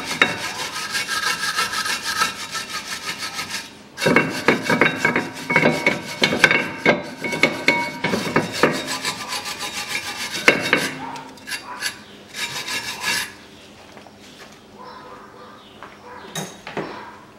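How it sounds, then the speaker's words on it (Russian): A wire brush scrubs the metal brake pad seats on the front caliper of a 2016 Ford Kuga 1.6, making loud, rapid rasping strokes in steady bursts, with pauses and lighter scraping toward the end. "Берем щетку по металлу и чистим немножко сверху и снизу"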